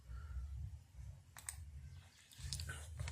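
A computer mouse gives a few quiet, sharp clicks close by during Photoshop work, spaced irregularly over a low hum.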